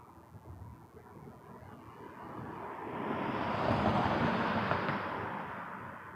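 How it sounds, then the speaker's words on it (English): An Airbus A350-1000 airliner takes off from the far side of the airport, its broad jet roar building from faint to loud and staying heavy and distant, with some wind noise on the microphone. "A350 1000 taking off on the other side"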